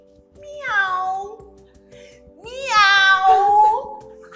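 A young child imitates a cat, giving two drawn-out, high, wavering meows with a short pause between them, loud and close, over faint background clatter.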